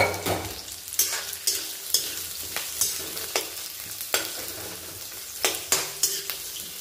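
Onion and ginger sautéing for tomato soup, a continuous sizzle broken by regular scraping stirs of a spatula against the pan, roughly one every half second, close and clear with no talking.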